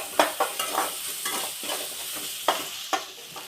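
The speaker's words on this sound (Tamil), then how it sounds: "நல்லா வதக்கி விட்டுக்கிறேன்" A spoon stirs and scrapes masala with curry leaves as it sautés in a pan for crab gravy, making repeated sharp scraping strokes over a soft, continuous sizzle.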